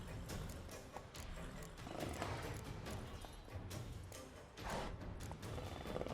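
Horse hooves gallop in The Witcher 3 video game, a faint, rapid clip-clop rhythm mixed with game effects and ambient sound throughout.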